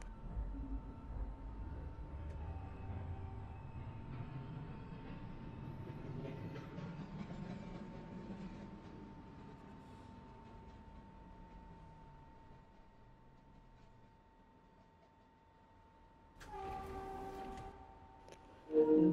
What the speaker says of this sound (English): This is the Eastchester Dyer Avenue bound 3 train via the White Plains Road local line.